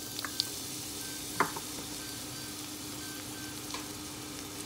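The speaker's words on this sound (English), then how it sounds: "fry the onion" Onion fries in a little olive oil for Malian-style jollof, a soft, even sizzle held close and steady with a few brief clinks from a pan or utensil, and no talking.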